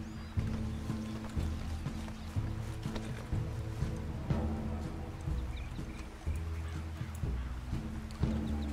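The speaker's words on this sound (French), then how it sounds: "Allez, monte sur le cheval Arthur là," Horse hooves clip-clop in the video game Red Dead Redemption II, a soft, regular trotting rhythm over a low droning game soundscape, faint and steady with occasional louder hoof strikes.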